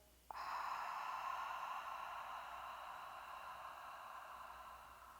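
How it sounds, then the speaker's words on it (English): Long audible exhale during a guided relaxation breathing exercise, starting abruptly and then flowing as a soft, breathy hiss that tapers slowly over several seconds, close to the microphone. "Exhale."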